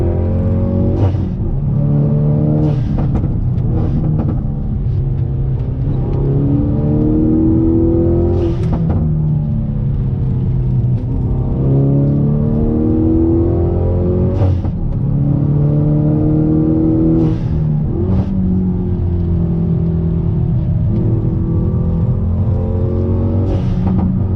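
A Hyundai Veloster N engine revving hard under throttle, rising and falling in repeated pulls with crackles between, loud and close, no talking.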